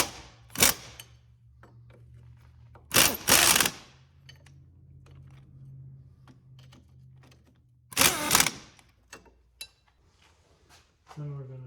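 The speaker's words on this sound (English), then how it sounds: "we're going to run in these strut nuts" Strut nuts being run in on a 2009-2020 Honda Fit during wheel bearing work: several short bursts of a close rattling power tool separated by quiet gaps, with faint clicks and light metallic handling between them.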